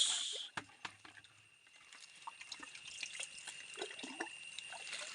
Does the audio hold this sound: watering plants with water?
yes